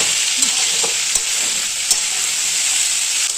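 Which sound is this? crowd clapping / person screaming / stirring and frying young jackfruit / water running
stirring and frying young jackfruit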